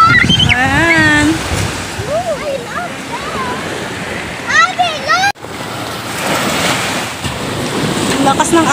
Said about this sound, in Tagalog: Ang lakas ng alon, oh. Pa-high tide na kasi, oh.